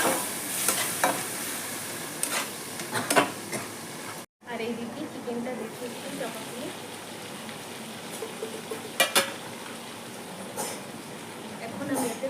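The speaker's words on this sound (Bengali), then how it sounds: "মশলাটা ভালো করে কষাবো" Spice paste with Kashmiri red chili powder and a little water sautés in a pan, a continuous close sizzle with intermittent scraping stirs and a brief dropout, with a voice talking over it.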